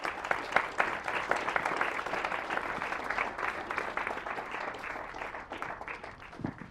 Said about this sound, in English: Please give former Mayor Hopper a warm round of applause